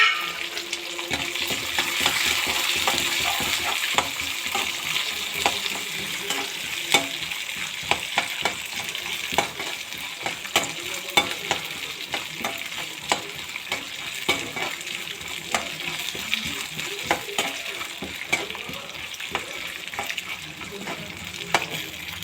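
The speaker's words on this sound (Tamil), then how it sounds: "கடலைப்பருப்பு, உளுத்தம் பருப்பு, வேர்க்கடலை போட்டு நல்லா செவப்பாக வறுத்துக்கோங்க" Hot oil crackles and sizzles as mustard seeds, chilies, curry leaves, chana and urad dal, and peanuts fry in a pan, with frequent scraping stirs and sharp pops over a continuous hiss.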